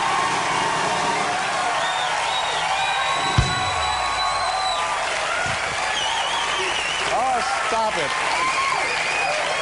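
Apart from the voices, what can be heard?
studio audience applauding and cheering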